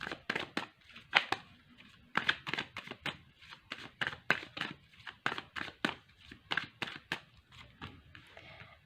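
Tarot cards handled during a reading: a steady run of crisp, papery flicks and slaps as cards are shuffled and laid down, close and moderately loud, with no talking.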